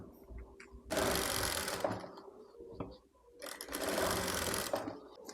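A sewing machine stitches elastic onto a baby skirt in two fast whirring runs of about a second each, separated by a brief pause with small handling clicks.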